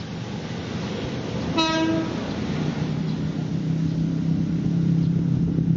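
A KRL Commuterline electric commuter train on the Bogor–Jakarta line rumbles steadily past, a brief horn toot sounding early on over the continuous roar of wheels on track.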